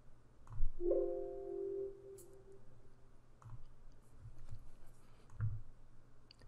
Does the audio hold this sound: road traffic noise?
no